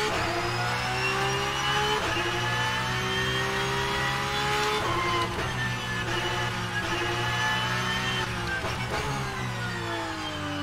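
A Porsche 992 GT3 Cup race car engine in rFactor 2 revs up through the gears, rising whining tones broken by a few quick shift dips, loud and close, with no speech.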